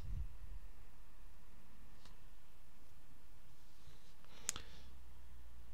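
A computer mouse gives a few faint, isolated clicks in a quiet room, spaced seconds apart with one slightly sharper click near the end, and no voices.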